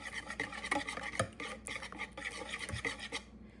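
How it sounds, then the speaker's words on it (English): Four eggs whisked in a large bowl, with a steady rapid scraping and tapping of the whisk against the bowl, close and continuous, with no talking. "in a large bowl, we have 4 eggs, and I am going to mix it up a little bit just to break up the yolks"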